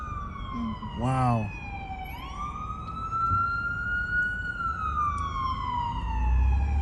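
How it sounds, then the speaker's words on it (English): A fire truck siren wails, sweeping up and down steadily in the distance, in Mississauga, Ontario, with one brief exclaimed word early on. "I was feeling homesick until I heard this fire truck."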